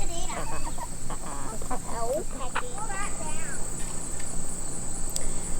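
Several chickens cluck and chatter nearby over a constant high insect buzz, with scattered short calls and someone speaking faintly.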